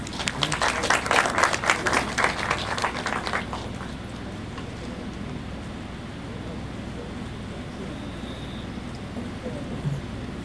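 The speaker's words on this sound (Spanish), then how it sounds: "Un aplauso, por favor, para el doctor Morales." Applause from an audience at a university ethics lecture in Guayaquil rises for a few seconds and then fades into a steady, noisy room hiss.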